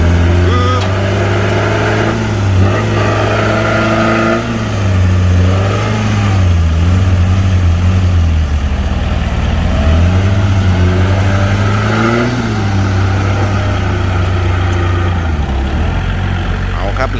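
A dump truck engine runs loud and close while the bed lifts to tip soil at a work site, a steady heavy idle that rises and falls with revving surges, and voices talk intermittently over it.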